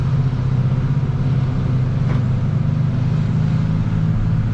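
A turbocharged truck rolls along while towing a Primetech 175, its engine a steady low rumble close by with no break in the drone.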